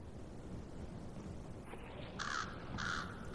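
Crows cawing in a swamp in Banishers: Ghosts of New Eden, two harsh caws in the latter half over a low, steady ambient bed, moderately distant, no talking.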